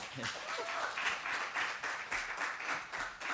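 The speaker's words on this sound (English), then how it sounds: "I think that deserves a clap" Audience clapping at an Earthfest live lesson, a crowd of hands patting in a moderately loud, slightly uneven flurry that swells and dips in small waves, with faint voices mixed underneath.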